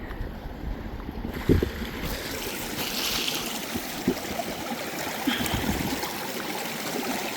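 A creek flows in winter in Colorado, a continuous broad rushing and burbling of water, fairly close and steady, with a couple of faint knocks.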